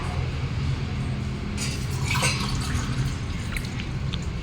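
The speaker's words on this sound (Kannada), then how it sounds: "ತಾಮ್ರದಂಡೆ ನೀರು ತೋಡ್ತಾ ಇದ್ದೀನಿ" Water pours from a copper vessel in a steady near trickle and splash, brightening for a couple of seconds midway, with no voices.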